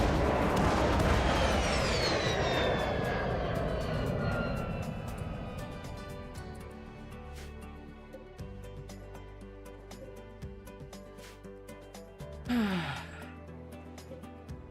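Bombs go off in a modded building game, opening with a loud, sustained rumbling blast that slowly fades, then scattered smaller bangs and a sharp hit near the end.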